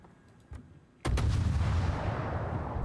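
Warship guns in World of Warships fire a heavy boom, with a softer shot before it and a long rumbling roar after the main salvo.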